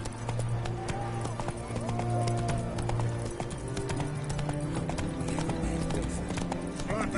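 Horse galloping in The Witcher III: Hearts of Stone, a steady clip-clop of hooves running continuously throughout, blended with game music and ambient sound, with a voice speaking briefly over it.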